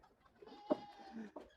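A dairy goat fed calliandra fodder lets out a short bleat, one moderately loud call amid quiet farmyard background.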